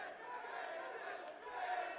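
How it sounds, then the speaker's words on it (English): A live studio audience at a fantasy football show in Los Angeles cheers and hollers, a steady wash of crowd voices sustained for a couple of seconds at moderate distance. "I don't even know what they're cheering for."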